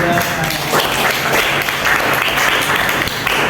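Loud, continuous clapping from a group, dense and even throughout the short burst, close by.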